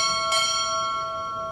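A ship's bell rings during a U.S. Navy Chief Petty Officer pinning ceremony, giving one clear bright strike over the fading ring of an earlier stroke, then a long sustained metallic decay with no voices.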